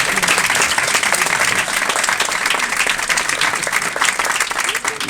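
An audience at a revolutionary party political meeting breaks into loud, sustained applause, a dense wash of many hands clapping close and steady throughout.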